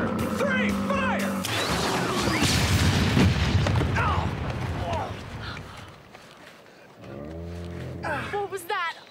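Cartoon weapons fire in a loud, rumbling burst of blasts and an explosion lasting several seconds, with voices talking over and after it.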